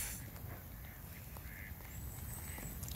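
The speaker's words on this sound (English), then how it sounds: "The ducks seem to be having a laugh," Ducks quack softly at a distance on a pond in wet, windy weather, faint against a steady wash of wind and ambient noise.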